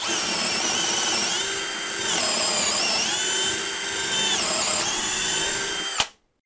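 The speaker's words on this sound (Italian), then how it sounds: "andiamoci giù pesante direttamente con la punta più grande che possiamo montare da 10" A DEKO 20V cordless drill, set to speed 2, bores into soft fir wood with a 10 mm bit. It gives a loud, steady, high-pitched whine for about six seconds, then cuts off abruptly.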